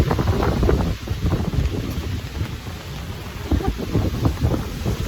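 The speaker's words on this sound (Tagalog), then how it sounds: "Pumapalo yung hangin" Strong wind roars and buffets the microphone in heavy, uneven gusts, a loud continuous rumble with surges and brief dips throughout.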